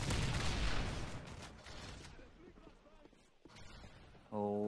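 CM901 rifle gunfire in a video game, a dense rattle of shots up front that fades into scattered distant fire, with a voice talking over it.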